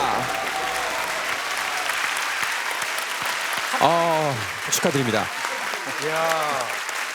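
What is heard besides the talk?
audience applause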